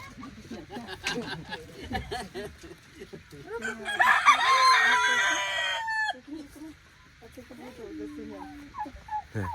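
A rooster crows clearly and close by on a farm. One long crow sits in the middle of the clip, with softer clucking and a few scattered voices in the background before and after it.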